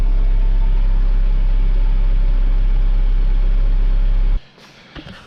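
A tractor engine running while pulling a MechMaxx VAM65 flail mower, loud steady low drone with a constant hum, then cutting off abruptly near the end, leaving quiet background with a few faint knocks.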